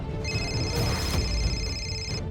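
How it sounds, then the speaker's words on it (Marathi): A mobile phone rings with a steady electronic tone lasting about two seconds indoors, over a low room background. "फोन वाजतोय तुमचा"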